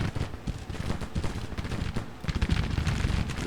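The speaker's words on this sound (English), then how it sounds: "He's taking a hit from their artillery." Artillery fire in a Civil War strategy game, a dense continuous barrage of overlapping booms and cracks at a steady loud level with no pauses.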